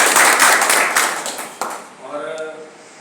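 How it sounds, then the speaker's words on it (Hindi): Audience at a civil defence training session in Nagpur claps in welcome, a loud burst of applause that fades after a couple of seconds as a voice begins speaking. "सबसे पहले मैं तो उनका तालियों से स्वागत करूँगा"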